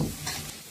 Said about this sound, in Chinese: 我表弟在炒菜，你看这厨房里面乌烟瘴气的，炒了个小鱼仔